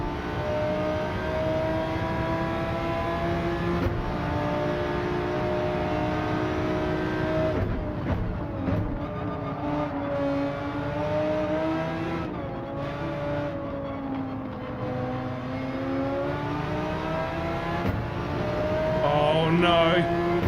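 Race car engines drone and rev continuously in Gran Turismo 7, a steady loud engine note with shifting pitch as the cars accelerate, with someone talking over it.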